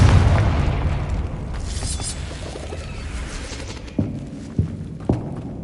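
Spell explosions from the Confringo fire spell in the video game Hogwarts Legacy, a low rumbling boom fading under steady game hum, then three short punchy bursts spaced about half a second apart.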